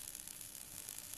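A continuous, even welding sizzle from a virtual welding simulation in a Meta Quest VR application, a steady hiss with no pauses and no voices.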